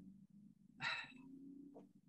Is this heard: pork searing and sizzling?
no